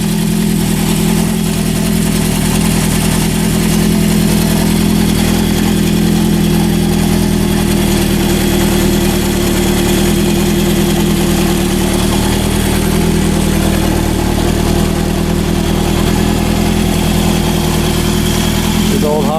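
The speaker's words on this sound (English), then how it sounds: "Got a little cam chain rattle." A 1972 Honda CB750 Four motorcycle idles loudly and steadily close by, its even engine drone carrying a faint mechanical cam chain rattle throughout.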